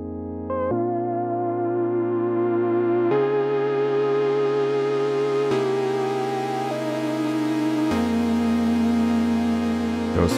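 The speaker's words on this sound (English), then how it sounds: "I'm gonna start with just a little lead kind of sound" A lead synth from Native Instruments Monark, a Moog emulation, plays a sequence of sustained monophonic notes with gentle vibrato, stepping between pitches every couple of seconds, rich in harmonics, loud and alone without any talk.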